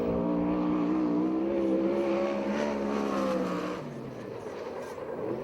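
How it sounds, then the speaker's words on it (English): Todd Hunsacker's 360 sprint car out of Chino Hills running a lap at the Perris dirt track, a loud, high-revving engine note that holds steady, then drops and fades as it passes by. "This is a 360 car out of Chino Hills, Todd Hunsacker."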